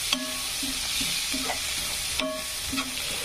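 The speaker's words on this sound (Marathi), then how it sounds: "हळद टाकल्यानंतर देखील कांद्याला फ्राय करायचं। कांदा छान असा फ्राय होऊ द्यायचा।" Chopped onion with turmeric fries in a pan, a steady soft sizzle broken by repeated scraping stirs of a spatula, close and even, with no talking.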